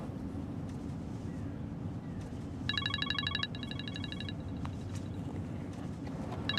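A mobile phone rings in two short bursts of bright electronic ringtone, moderately loud against a steady windy, rumbling background with no talk.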